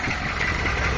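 A 1992 truck engine idling with a quiet exhaust system, a steady low rumble with an even, smooth tone, close by and without any talk.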